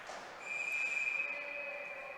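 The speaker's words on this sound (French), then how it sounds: "L'arbitre a sifflé." Referee's whistle at an 18U youth ice hockey game, a faint distant shrill tone sustained for more than a second amid arena crowd noise, with no nearby talk.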